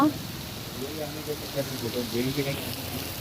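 Heavy rain pours down in a steady, dense hiss that fills the whole scene, while a voice talks over it.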